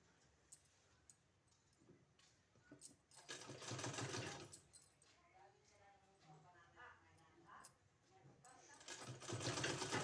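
A sewing machine stitches a kurti sleeve in short runs, its rapid mechanical whirring rising loud in bursts between quieter pauses and handling noises, heard close up.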